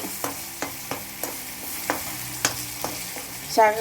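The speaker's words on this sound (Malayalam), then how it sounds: "കാന്താരി പിന്നെ ശകലം കറിവേപ്പില ഇത് കൂടെ ആ തിളച്ച എണ്ണയിലേക്ക് ഇട്ടു" Green chilies and curry leaves fry in hot oil for a homestyle Kerala lunch, giving a soft steady sizzle broken by regular sharp clinks of a spoon stirring against the pan.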